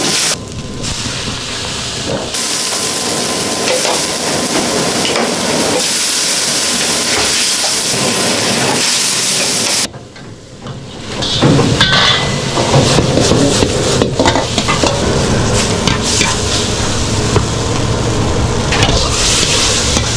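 Eggplant miso stir fry cooking in a Chinese restaurant kitchen, a loud continuous sizzling hiss that cuts briefly near the middle, then resumes with clattering pan and kitchen noise.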